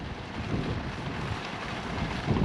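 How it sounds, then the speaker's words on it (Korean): Strong cold wind on a snowy Tian Shan mountain at about 4000 m, a steady roar buffeting the microphone with no gaps. "바람 불고 엄청 추워요"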